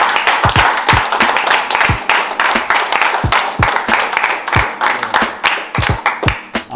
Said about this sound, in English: we give Marlene and Courtney Alexander a round of applause